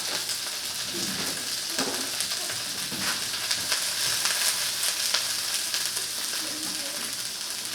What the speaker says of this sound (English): the first thing I'm going to go ahead and add in is the cabbage. And we're just going to let that cook